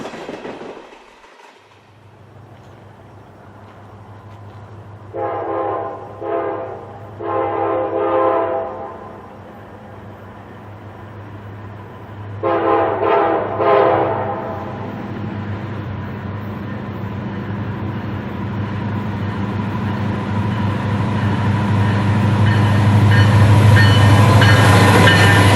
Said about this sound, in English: The next one we see is NS 2615, as it leads a freight train northbound.